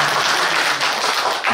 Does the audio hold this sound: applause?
yes